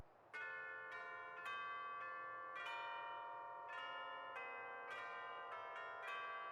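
Church bells in Final Fantasy 14 ring out a bright melodic sequence during the Starlight Celebration Christmas event, with repeated struck chimes overlapping into a sustained ringing tone, steady and fairly close with no talk.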